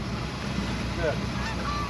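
Distant geese honk a few times over a steady background rumble of water and wind, heard from a boat.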